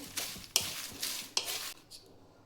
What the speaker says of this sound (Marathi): तेजपत्ता भाजायचा आहे.